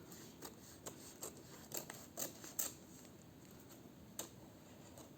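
Scissors trimming paper flush along the edge of a handmade cardboard advent calendar box, heard as a series of quiet, crisp snips and rustles with irregular spacing, close and faint with no talking.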